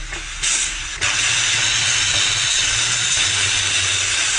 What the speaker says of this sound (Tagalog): Then, we're gonna release the pressure.